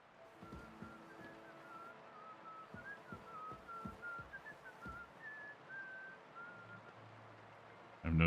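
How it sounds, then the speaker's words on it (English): A character in Kingdom Come: Deliverance II whistles a wandering tune close by and at moderate volume, over faint ambient noise and scattered low thuds and footsteps. "I'm noticing that he's whistling really close by"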